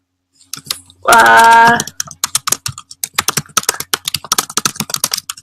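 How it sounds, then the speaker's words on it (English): Fingers type on a computer keyboard nearby, beginning with a brief burst of fast rattling keystrokes, then continuing as irregular individual key clicks and taps, with no voices. "Let me type that real quick."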